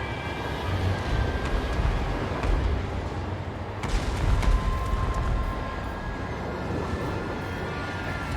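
Heavy artillery fire in a naval battle game, rumbling continuously with repeated booming blasts, one stronger burst near the middle, over dense low noise.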